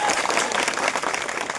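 A crowd claps steadily and loudly at a Koli community gathering in Bhavnagar, a dense, continuous patter of hands with no voices over it.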